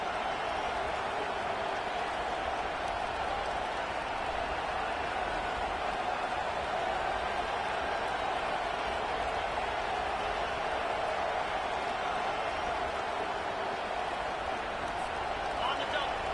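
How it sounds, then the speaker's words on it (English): A loud, steady crowd roar fills a college football video game stadium during a Georgia versus Colorado game, a dense continuous wash of cheering with no break across the whole stretch. "listen to this crowd roar"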